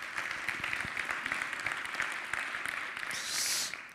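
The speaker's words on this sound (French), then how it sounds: "On peut l'applaudir." A lecture audience applauds a speaker being welcomed to the front, a steady dense patter of many hands filling the room and swelling briefly near the end before fading.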